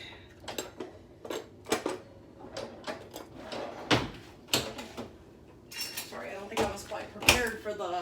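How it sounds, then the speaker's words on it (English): Kitchen utensils clatter and a drawer is rummaged through while a spatula is fetched: a quick run of clinks, knocks and sliding thuds, fairly close but quiet. "I'm going to grab a spatula really quick."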